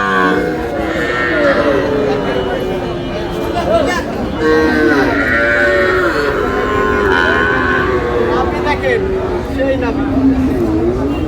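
Cattle at a small bull-calf farm in Rangamati: several drawn-out, rising and falling bellowing calls, close and fairly loud, with people chattering throughout.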